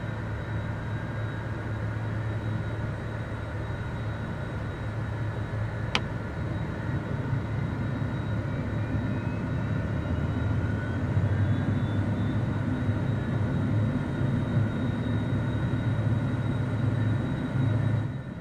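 HondaJet jet engines idling, heard from inside the cockpit in Microsoft Flight Simulator 2024: a steady, even hum and whine holds at moderate loudness throughout, with a single brief click near the middle and no talking.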